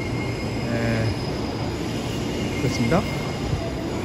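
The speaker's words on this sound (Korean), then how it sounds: "일반 열차 하나가 출발하네요." A regular passenger train pulls out of Seoul Station, a steady rumble of rolling wagons with a brief wheel squeal, heard from the platform while someone speaks over it.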